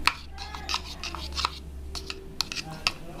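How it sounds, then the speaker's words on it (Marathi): A spoon mixes chaat masala and other ingredients in a bowl for egg lollipops, giving close, light clinks and scrapes in short irregular bursts with no talking. "आता आपण हे सगळं मिक्स करून घेऊया"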